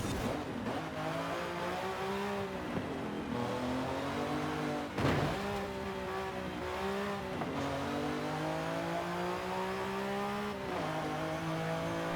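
A fast sports car in the Forza Horizon 5 racing game revs hard and accelerates through repeated gear shifts, its engine pitch climbing and dropping steadily, loud and close, with no talking.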